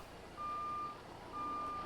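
Truck reversing beeper in American Truck Simulator on a vintage Kenworth K100E, two steady electronic beeps sounding in a slow repeating rhythm over a low engine rumble.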